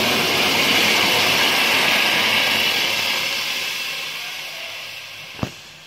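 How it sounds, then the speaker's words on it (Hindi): A loud, steady hiss of boiled water poured into a hot pot of beef yakhni pulao slowly fades away, ending with a single sharp knock. "अब हम इसमें पानी डाल देते हैं।"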